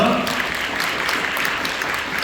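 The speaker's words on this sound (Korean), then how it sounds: "우리 주님께 영광의 박수 올려드리겠습니다." Church congregation clapping in praise after a prayer, a steady burst of many hands applauding together in a large room, brief and even in loudness.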